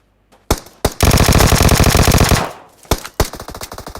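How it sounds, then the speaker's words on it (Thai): Gunfire in the mobile battle royale game PUBG Mobile opens with two loud single shots, then a long sustained burst of rapid automatic fire that cuts off abruptly, followed by a few more scattered close shots. "ยิงตั้งนานแต่ไม่ตายเพราะกระสุนหมดก่อน"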